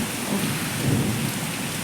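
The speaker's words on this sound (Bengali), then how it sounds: "বাইরে হচ্ছে ঝমঝমিয়ে বৃষ্টি" A heavy, steady downpour roars without pause, with a low rumble underneath suggesting thunder.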